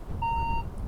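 Minelab Vanquish 540 metal detector on wet beach sand gives a single sustained iron-tone beep, clear and close, over low steady background rumble.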